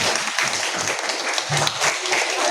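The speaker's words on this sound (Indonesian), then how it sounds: "tepuk tangan buat kalian" A classroom of schoolgirls claps together in a dense, steady burst of applause that fills the room, with a few voices mixed faintly underneath.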